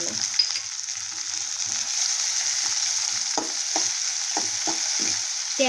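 Tomatoes and onion fry in a pan for masala Maggi, a steady close sizzle with a few sharp scraping stirs of the spatula near the end; no voices.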